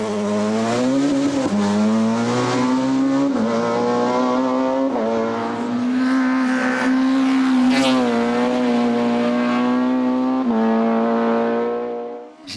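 A Honda Civic Type R race car in the F2000 production group climbs the Col Saint Pierre hill climb, its engine howling loud and close, dipping and rising through repeated gear changes before cutting off.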